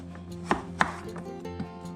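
A knife cuts through a seeded pumpkin on a board for canning, with about four firm, separate chops spaced unevenly over a couple of seconds, close and fairly loud.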